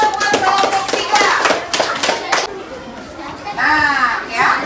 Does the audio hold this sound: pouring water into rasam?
no